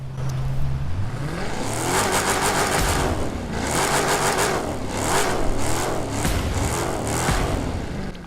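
A Dodge Charger-style car in the racing game The Crew 2 revs hard throughout, its engine note climbing and surging in repeated loud pulls with no talking.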